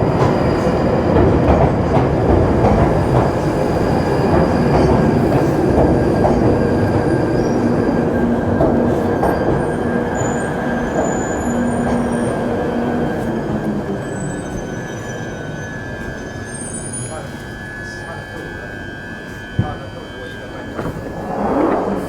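A London Underground tube train sits at a station, a loud steady hum and rumble with a faint high whine and some metallic squeal, then a quieter stretch with a sharp knock near the end, voices murmuring underneath.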